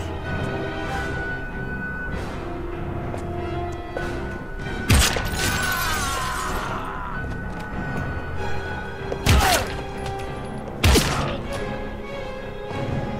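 Heavy Rain video game combat with sharp gunshots and crashing impacts, three loud bursts spaced through a dense, rumbling background of game sound, one followed by a bright shattering spray.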